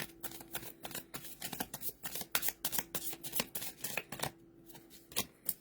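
Tarot cards being shuffled by hand in a quiet room, a rapid run of crisp riffling snaps and slaps in uneven bursts, close up and without talk.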